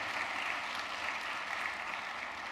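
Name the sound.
audience applause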